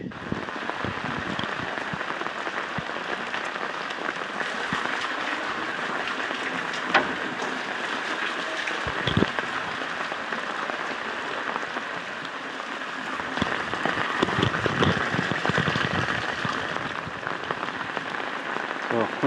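Heavy monsoon rain pours down steadily in a Gujarat village, a dense continuous hiss of drops drumming on surfaces throughout, with occasional louder splashes.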